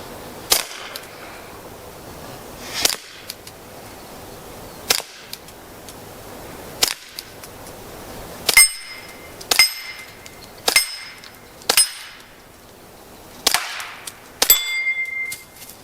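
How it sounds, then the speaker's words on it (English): Ten gunshots fired at suspended targets on a cabin shooting range ring out one at a time in an uneven rhythm, each a sharp, loud crack, several followed by a bright metallic ring from the struck targets. "My wife just shot 10 rounds"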